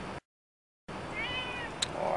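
A cat meows once, a short harmonic cry, close by on a rural farm property with rolling land, amid outdoor background noise after a brief stretch of silence.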